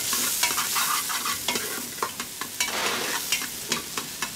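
Garlic, onions and carrots sweat in a pan with a steady, soft hiss, broken by frequent scraping clicks of a spoon stirring them around, close and fairly loud with no voices.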